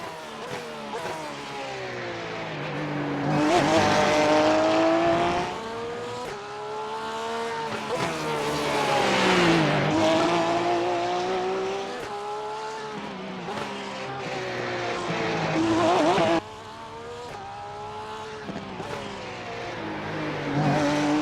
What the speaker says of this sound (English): I'm in the Porsche GT3 for this race, and I'll let you watch along for the first qualifying lap.